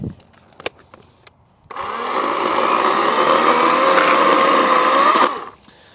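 A Badger electric chainsaw cutting wood: a steady electric motor whine with a cutting drone, running loud and continuous for about three and a half seconds after a few quiet clicks, then stopping.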